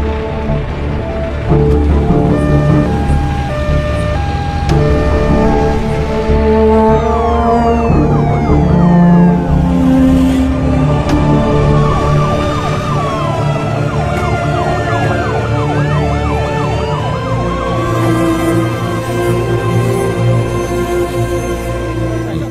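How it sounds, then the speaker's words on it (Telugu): Multiple emergency sirens wail through a movie scene, loud rising and falling ambulance tones overlapping with traffic rumble and horns, sustained over a long stretch without talk. "అంబులెన్స్కి దారవదు."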